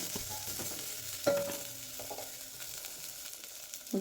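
Ingredients fry in hot oil, producing a steady, moderate sizzle broken by a few soft taps and one short clink of a spoon against the pan.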